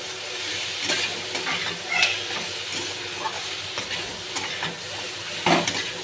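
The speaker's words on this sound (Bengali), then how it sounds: "এবার আমি আলুগুলো দিয়ে দেব। ভালো করে একটু ভেজে নেব।" Potato pieces frying in hot oil in a pan for a soybean and potato curry, a continuous sizzle broken by occasional stirring scrapes and clinks, close and moderately loud with no talk.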